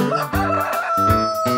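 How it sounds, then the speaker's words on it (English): A rooster crowing once in a full, close cock-a-doodle-doo, clear and alone with no talk over it. "Rooster."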